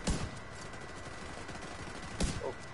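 A big gun fires continuously in a video game, a steady rumbling barrage at moderate level with two sharper louder blasts near the start and near the end.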